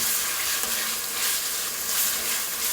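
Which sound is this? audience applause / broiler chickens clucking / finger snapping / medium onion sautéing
medium onion sautéing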